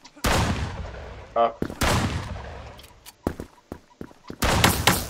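Loud sniper rifle gunshots in a video game, several sharp booming blasts with echoing tails spread across the span, interrupted by shorter pops, and a brief spoken exclamation.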